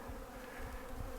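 Honey bees buzz at their hive in a steady, soft drone, a close continuous hum with no talking.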